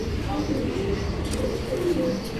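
A pigeon kept for sale coos in low, soft, repeated notes close by, over a steady background murmur.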